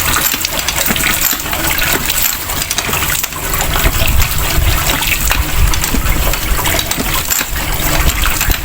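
Water gushing steadily into a gallon jug at a remote farmland water source, a loud, continuous splashing rush with no pauses, close up and without talk.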